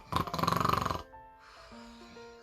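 A voice imitates a snore, a loud rasping, pulsing snort about a second long, followed by quiet tonal sounds.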